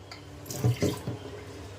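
Water runs from a kitchen tap in a short splashing burst, close and moderately loud, lasting only a moment.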